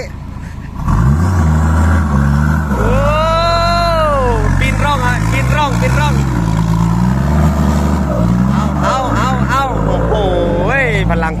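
A Hino J08E dump truck engine revs repeatedly, loud and near, with several rising-and-falling throttle blips over a deep idle, while someone talks throughout.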